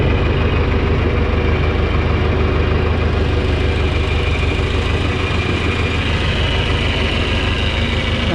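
An old John Deere 3010 tractor engine running steadily, a continuous low, rumbling drone with even pulsing, loud and close, with no break across the whole stretch.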